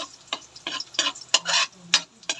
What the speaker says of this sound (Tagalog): Bawang, hahaluin po.